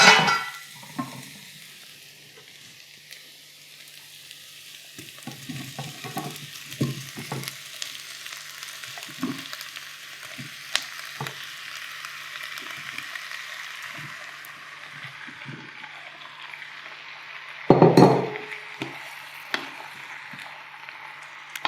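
Onions, garlic and tomatoes frying in a pan: a steady close sizzle with scattered clicks and stirring knocks, and a brief louder clatter near the end, with no voices.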